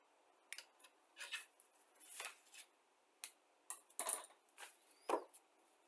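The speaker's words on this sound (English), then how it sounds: "very carefully, I'll cut this off with the nippers" Nippers snipping a part from a 1/72 Academy Kettenkrad tracked cycle plastic model kit sprue: a series of quiet, close clicks and snips, with one sharper cut near the end, no talking.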